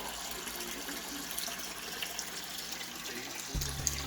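Water siphons steadily from an aquarium into a bucket with a continuous soft rushing and trickling, then a louder gurgling splash near the end.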